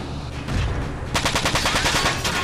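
Machine gun fire from a mech's dual Raptor guns in the video game Front Mission 4, starting as a short burst and then breaking into a steady rapid stream of loud, close shots.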